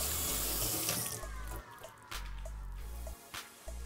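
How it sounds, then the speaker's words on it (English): Running tap water splashes over hands at a kitchen sink, a steady close stream with small drips and squishy rubbing, no talking. "I'm always washing my hands"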